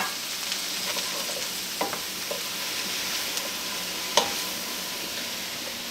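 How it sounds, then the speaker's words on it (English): Mushrooms sauté in a pan over medium-low heat with a steady soft sizzle and hiss, broken by a couple of faint clicks and taps, with no voices. "we want to let these mushrooms saute just a little bit and release some of their liquid"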